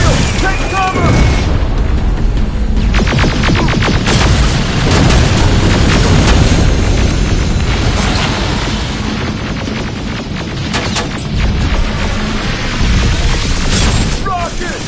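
Continuous loud, booming rocket and grenade explosions in the Terminator: Resistance video game, with repeated heavy blasts and debris crackle over a dense battle din, while voices shout underneath.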